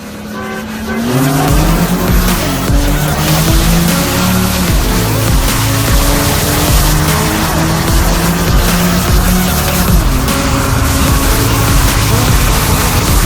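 Race cars with 3.7 engines roar together through a rolling start, engines revving hard and climbing through gears in a loud, continuous blare, with tire noise mixed in and no pauses.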